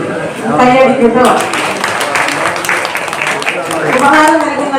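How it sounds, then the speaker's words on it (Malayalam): An audience applauding at a school alumni reunion at Kavanur GHSS, with continuous clapping that swells and fades, mixed with a voice speaking over a loudspeaker throughout. "കൈയടിക്കട്ടോ"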